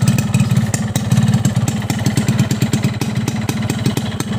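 A cold two-stroke motorcycle engine running on SPC 2T Alpha oil idles loud and close, with a rapid, steady popping putter that continues on its own with no talk over it.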